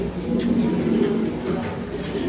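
Fancy Mundian pigeons coo together in a continuous low, throaty murmur close at hand, their soft overlapping coos steady throughout.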